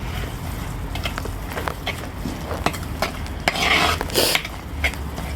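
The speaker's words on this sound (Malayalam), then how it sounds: "ഈ തേങ്ങാക്കൊത്തും നമുക്ക് ഇതിനകത്തേക്കിട്ട് ഇളക്കാം" A spoon scrapes and stirs coconut pieces through a thick prawn curry in a pot, with irregular scraping strokes and a louder clatter near the end.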